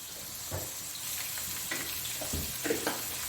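Ginger and garlic fry in oil in a kadhai with a steady, close sizzle and a few stirring scrapes, and no voice over it.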